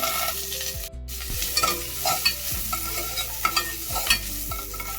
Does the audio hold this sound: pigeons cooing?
no